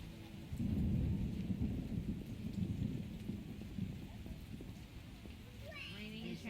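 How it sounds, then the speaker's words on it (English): Heavy rain and deep rolling thunder in the video game The Witcher, a loud low rumble swelling early then settling into a steady wash of rainfall with faint distant chirps near the end. "Oh, when will this rain stop?"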